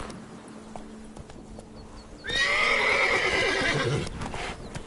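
Roach, Geralt's horse in The Witcher 3's Blood and Wine expansion, gives a loud, drawn-out whinny partway through after a few quieter hoof sounds, then the hoofbeats go on beneath it.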